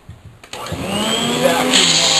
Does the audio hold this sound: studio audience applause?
no